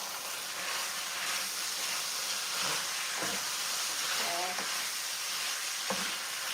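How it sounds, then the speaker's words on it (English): Beef sizzles loudly and steadily in a hot pan as it is stirred, a dense continuous frying hiss with occasional scrapes and clinks of the utensil against the pan. "We're gonna stir that beef. It's already"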